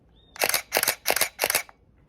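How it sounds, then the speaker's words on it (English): An SLR camera shutter fires four times in quick succession, evenly spaced, crisp and close, with silence around it. "See how the shutter is going up and down real quick?"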